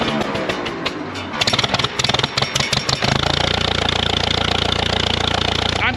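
A 1945 GMC 6x6 CCKW353 army truck engine cranks with rapid uneven bursts, catches, and settles into a loud, steady, close-up idle with a throbbing mechanical rhythm.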